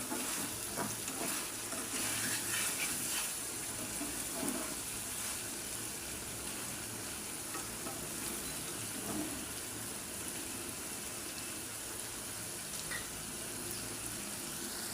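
Small mola fish curry cooking hot and spicy in a pan, a steady soft sizzle and bubbling with occasional stirring, close and even.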